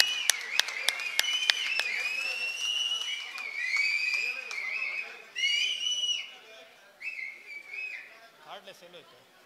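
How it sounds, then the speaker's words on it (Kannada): An audience at a Pancharatna Yatre political rally claps sharply, then cheers with whistles and shouts that swell and fade, with voices mixed in. "ಎಲ್ಲರೂ ಕೂಡ ಚಪ್ಪಾಳೆಯೊಂದಿಗೆ ಈ ಕಾರ್ಯಕ್ರಮಕ್ಕೆ"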